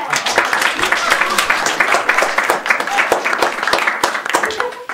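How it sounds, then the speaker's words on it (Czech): Audience applause at a Jára Cimrman-themed stage event, a dense, continuous patter of clapping from a crowd lasting throughout, with voices in the room mixed over it. "děkuji za potlesk"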